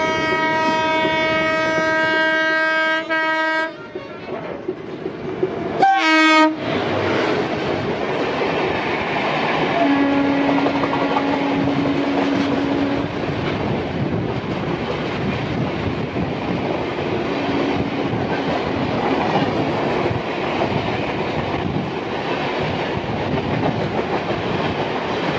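Haldia–Chennai Express train rolling past on rails with a constant loud roar and rumble, a sustained multi-tone horn blast at the start, then a short sharp burst, with steady wheel noise throughout.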